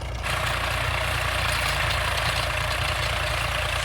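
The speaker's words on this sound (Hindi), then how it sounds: "लेकिन अब रूटावेटर चलवा रहे हैं।" A tractor drives a rotavator through a field, its engine holding a loud, steady low rumble with a dense broadband churn of soil and machinery, continuous and close with no talk.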